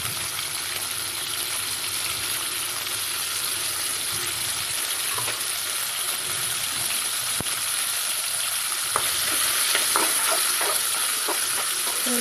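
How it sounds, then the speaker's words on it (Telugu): About half a kilo of washed chicken sizzles and fries in a pan during a gongura chicken curry, with a steady bright hiss and intermittent scraping stirs and clinks close by. "ముందుగానే కడిగి పెట్టుకున్న చికెన్ కూడా వేసుకోండి."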